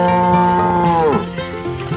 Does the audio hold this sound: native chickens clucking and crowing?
no